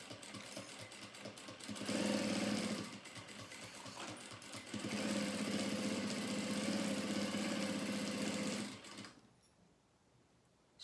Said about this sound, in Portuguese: Agora, a gente vai passar a costurinha aqui, ó, pelo lado da manta, com a manta pra cima, pro tecido não esticar.